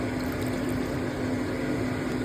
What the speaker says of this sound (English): First step is to add 1/2 cup of hot water